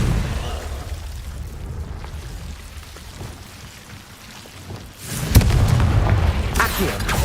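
In Hogwarts Legacy, a Confringo fire-blast spell sets off a sudden heavy boom about two-thirds through, followed by a loud crackling roar over a background of game rain and rumbling ambience.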